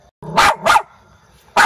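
Dogs bark in a large yard at a house: two quick loud barks close together, a pause, then another bark starting, near and sharp.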